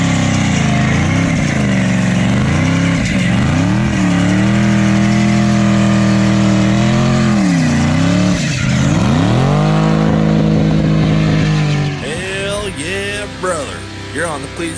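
Race car engine revving hard through a tire-smoking burnout, loud and close, rising and falling in long sustained pulls before easing off near the end.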